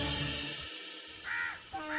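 Crows caw in two harsh, nasal calls, one after the other, fairly loud over a steady background hum, and nobody speaks.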